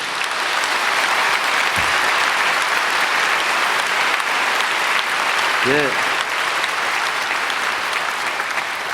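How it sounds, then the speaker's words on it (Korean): A large church congregation at a special dawn service applauds the vehicle volunteer team, a thick, even roar of clapping that continues for the whole stretch, with a brief voice rising out of the crowd partway through. "박수 한번 해주세요"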